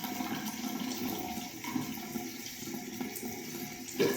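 Running tap water splashing as a face is dampened at a sink, a continuous close wash of water with small splashy bursts, the loudest splash near the end.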